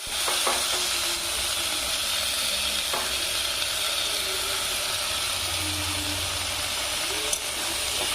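Chopped bottle gourd greens fry in hot oil with salt and turmeric, a steady loud sizzle and hiss running throughout, broken by a few scraping stirs of the spatula.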